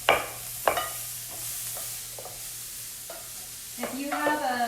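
Broccoli pieces sautéing in a small pan, a soft continuous sizzle broken by several sharp scrapes and clatters of a utensil stirring them.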